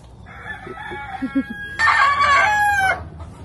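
A rooster crows loudly and close by at an animal auction, a long drawn-out call, with clucking chickens and faint murmuring in the background.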